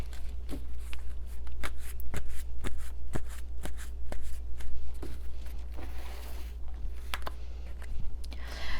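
Tarot cards being shuffled by hand, a rapid, close series of crisp riffles and slaps repeating irregularly throughout over a steady low hum, with no talking.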